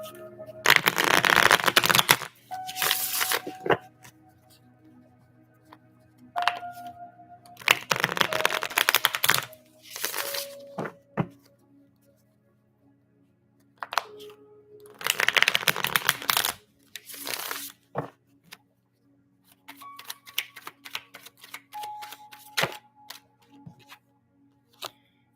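Oracle cards riffle in several bursts of close, crisp shuffling, separated by quieter pauses with light taps and card handling as cards are pulled.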